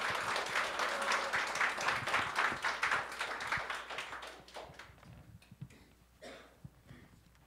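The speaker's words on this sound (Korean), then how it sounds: "우리 목사님 우리 환영하는 의미에서 박수로 맞이하겠습니다." Church congregation applauding to welcome the pastor during a Sunday worship service, a dense sustained round of clapping that gradually thins out into scattered claps near the end.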